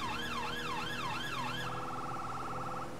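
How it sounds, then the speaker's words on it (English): A fire engine siren responding toward an airport fire station wails in rising and falling sweeps, then switches to a rapid yelping tone, loud and close throughout before cutting off. "Cancel the siren tones this time, no longer need them."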